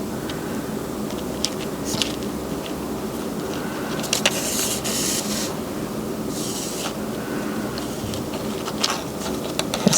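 A sewing machine runs a binding stitch around the outside edge of a small fabric bag, its motor making a steady, close buzzing hum for the whole stretch with faint ticks on top.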